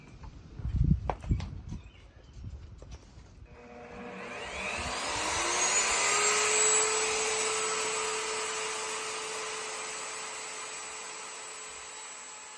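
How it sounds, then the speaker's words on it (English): A router table routing the edges of a wood piece: a few knocks and handling sounds, then the router motor whines up to full speed and holds a loud, steady high-pitched roar as it cuts. "We're gonna router these edges, smooth it up,"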